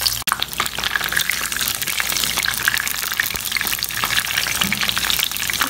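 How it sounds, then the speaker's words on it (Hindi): Eggplant pieces frying in hot oil for a Hyderabadi bagara baingan, a steady close, loud crackling sizzle running throughout with no speech. "ये ऑयल गर्म हो चुका है इसमें बैगन ऐड कर लेंगे थोड़ा सा फ्राई करके लेंगे"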